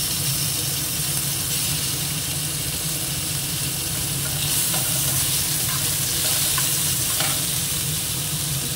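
Chopped onion and tomato fry lightly in a pan with a steady, close, continuous sizzle that holds evenly throughout, with no talking.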